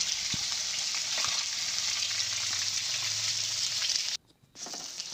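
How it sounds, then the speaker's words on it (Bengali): Boiled eggs coated in turmeric, salt and chili powder fry in hot oil in a pan, giving a continuous close sizzle and crackle that briefly drops away near the end before resuming. "আমি ডিমগুলোকে লাল লাল করে ভেজে নেব"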